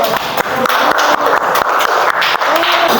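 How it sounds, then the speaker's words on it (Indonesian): A classroom of students applauds for a presenting discussion group, a dense, steady clatter of many hands clapping close by for a few seconds. "tepuk tangan untuk kelompok 2"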